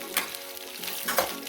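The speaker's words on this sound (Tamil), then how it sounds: "இப்போது வெங்காயம் நல்லா வதங்கியாச்சு." Onions softening in a hot pan for a sweet potato masala, giving a steady, close sizzle with faint stirring scrapes and no voices.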